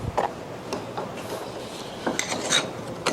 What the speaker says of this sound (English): If you notice, I'm picking up the file as I come back.